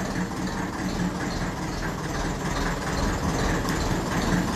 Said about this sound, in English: I'll turn off the engine now and we'll get set up.